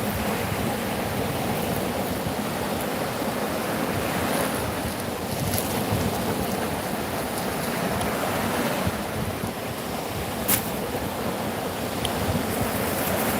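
Sea wind and surf roll onto the beach at Jomtien, Pattaya, a steady, loud wash of waves with constant wind buffeting the microphone throughout.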